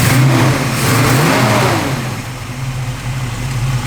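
A 1963 Chevrolet Nova II SS engine revving nearby, a throaty rise and fall of revs that settles back toward a lower idle, loud and alone without talk.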